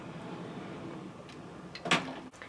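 Makeup storage drawer for pigments and glitter sliding shut, a soft scrape followed by a short, fairly close knock near the end, with no voices.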